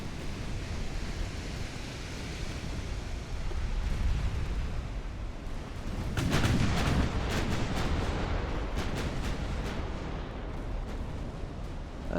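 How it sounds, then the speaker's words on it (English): Battleship main guns firing in the naval warfare game Ultimate Admiral: Dreadnoughts, a deep rolling rumble with a sharper burst of booming salvos midway, over a constant sea-like roar. "Pudding still has its main guns engaged with the enemy battleships."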